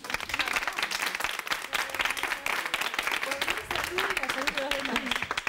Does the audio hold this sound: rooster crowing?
no